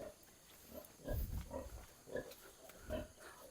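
Soft, low grunts from pigs and suckling piglets on a farm come in short irregular bursts, close by and fairly quiet against a faint background.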